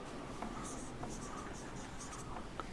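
A pen scratches across paper in short quick strokes while shorthand is written, soft close-up scribbling repeating throughout.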